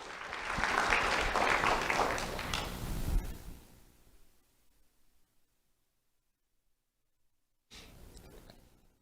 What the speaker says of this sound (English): Round of applause for Anthony and Marlon.